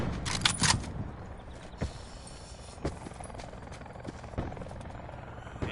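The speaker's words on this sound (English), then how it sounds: "What is this helicopter doing?" A helicopter in Call of Duty: Black Ops 4 Blackout keeps up a low rotor drone in the background, while sharp gunshots and impacts crack out irregularly on top of it, the loudest burst coming first.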